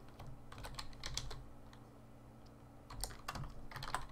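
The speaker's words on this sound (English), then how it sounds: "So I just need to type in the name" Quiet typing on a computer keyboard as a webinar name is entered: bursts of soft clicking keystrokes, a short pause, then another flurry of taps, close and alone.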